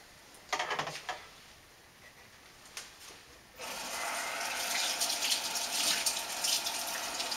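Tap water runs steadily for several seconds, rinsing sanitized mead-making gear for a blood orange melomel after a few brief clatters and splashes, close and fairly loud with no talk.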